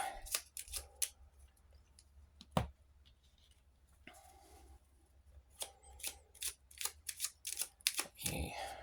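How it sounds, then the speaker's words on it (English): Cards riffle and flick in quick bursts, with pauses between rounds of shuffling and a soft voice in the background. "Shuffle the manor deck here."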